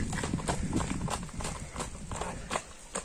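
A horse walks with steady clip-clop hoofbeats, several sharp close strikes in a regular rhythm over a low rumble of background noise.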